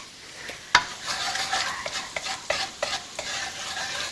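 Garlic frying over low-medium heat in a pan for mee siam, a soft continuous sizzle punctuated by clear metallic clinks and scrapes of a spatula stirring, close and without speech.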